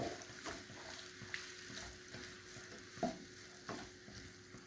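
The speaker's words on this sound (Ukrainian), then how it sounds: "Протушковуємо цибулька, але не зажарюємо" Chopped onion softly sautéing in a little oil in a pan, a quiet low sizzle broken by occasional scrapes and taps of stirring, with no voices.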